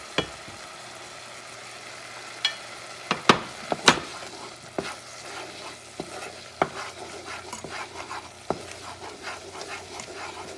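Spices are mixed into a sizzling frying pan with a brush. Sharp scraping and tapping strikes sound against the pan in irregular bursts over a low sizzle.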